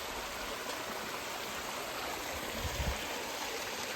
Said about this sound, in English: There's a waterfall going down the mountain here.